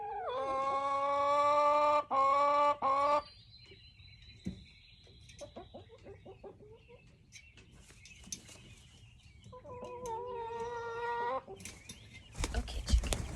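A chicken clucks and squawks in loud bursts at the start, then gives sparser, softer calls with quiet gaps between, before a few more clucks near the end.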